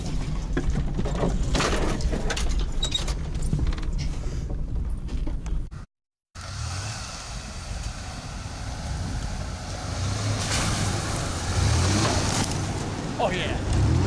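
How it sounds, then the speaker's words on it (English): A GMC Jimmy driving an off-road trail, with a steady rumbling engine and rattling, bumping mechanical noise throughout, a brief dropout midway, and rough, windy road noise. "here we are doing a little trail riding now."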